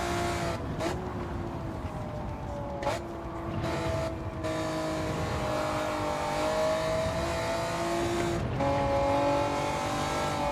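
A race car engine roars in a racing video game, loud and sustained, with rising and falling revs as it shifts through gears, plus a few sharp dips at gear changes.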